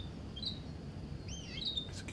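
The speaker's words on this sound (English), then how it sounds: "It's a cute bird." A small bird in the Heavy Rain video game gives a few faint, high chirps and tweets, two short calls against a quiet, low ambient hum.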